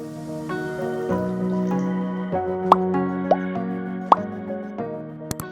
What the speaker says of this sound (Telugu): రుచికి సరిపడా ఉప్పు వేసుకొని మిక్స్ చేసుకోవాలి రెండిట్లలోనూ కొంచెం వాటర్ యాడ్ చేయండి